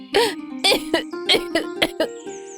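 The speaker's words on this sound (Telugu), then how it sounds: "కాసేపటి వరకు అలా దగ్గుతూ ఉంటుంది" A string of several harsh, close coughs in quick succession, each a short raspy burst, with a faint high tone lingering at the end.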